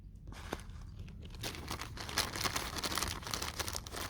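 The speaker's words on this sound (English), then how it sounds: "I'm sorry for the plastic bag making noise" Crinkly plastic bag rustling close up, a steady stream of crackles and crunches that swells in the second half.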